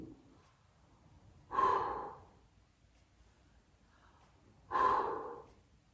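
A horse exhales twice during a horsemanship session, two loud, close breathy snorts a few seconds apart against quiet surroundings.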